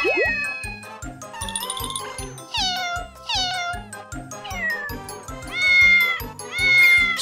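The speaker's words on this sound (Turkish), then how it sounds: "sokak kedileri Volvo'nun yavru kediyi bulmasına yardım ediyor" Cartoon street cats meow repeatedly in quick, high, sliding cries, overlapping one another over a light rhythmic jingling backing with no talk.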